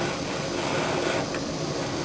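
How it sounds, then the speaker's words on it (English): A propane torch roars steadily and close while it heats solder and flux on copper during rolling ball sculpture work. The hiss is broad and even for the whole stretch, with no voices. "I'm going to start my propane torch."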